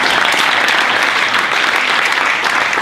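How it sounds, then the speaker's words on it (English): An audience at an evening forum applauds the panellists, giving close, dense, steady clapping that fills the whole short stretch without letting up. "I'd like to put your hands together for our panellists who gave a little time tonight"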